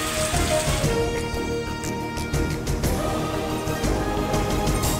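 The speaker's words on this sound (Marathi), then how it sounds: "कल्याण, डोंबिवली, शहापूरमध्ये अवकाळी पाऊस" Unseasonal rain pours down steadily, a dense close hiss of drops striking surfaces with scattered louder patters and no voices.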